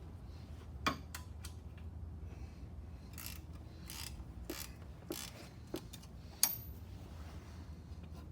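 A ratchet works a 10 mm bolt loose on a Dodge Challenger, heard as quiet, close bursts of clicking and tool clinks spread through the stretch, with a sharper metallic tap near the end.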